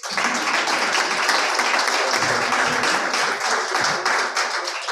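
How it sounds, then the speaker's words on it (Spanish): Dense, steady applause from an audience at a book presentation at a Mexican university, filling the room evenly for the whole stretch with no voice on top. "le pido un gran aplauso"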